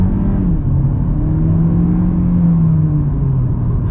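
A 2021 VW Golf 8 eTSI accelerates hard, heard from inside as a loud, steady engine drone that rises slightly in pitch over a constant road rumble.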